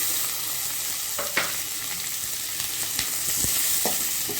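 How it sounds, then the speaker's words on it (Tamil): Onion and halved tomatoes sautéing in a pan for a tomato onion thokku, a steady close sizzle with a few scraping stirs and light clinks throughout, no voices. "இதை லேசாக வதக்கிக்கலாம்"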